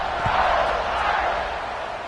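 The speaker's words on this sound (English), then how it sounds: "this crowd is buzzing after that last score" A football stadium crowd buzzes steadily after a score, a dense, distant roar of many voices that holds at an even level throughout.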